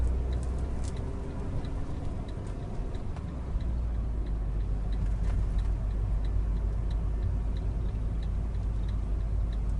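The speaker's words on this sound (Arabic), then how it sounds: "هذا صوت الرمل على السيارة." Wind-driven sand pelts a car during a sandstorm in Jeddah, a constant gritty rushing roar under a low rumble, with faint regular ticking like an indicator running through it.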